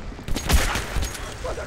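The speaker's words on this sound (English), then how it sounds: "Who the hell is shooting me there?" Gunfire in the video game Metro 2033 comes as a short burst of several close shots over a low rumble, with a voice talking briefly.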